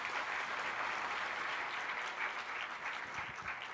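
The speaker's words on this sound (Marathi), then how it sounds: "एकदा जोरदार टाळ्या आपल्या सगळ्यांसाठी" An audience applauds at a road safety campaign closing ceremony, steady dense clapping from a large crowd throughout, moderately distant.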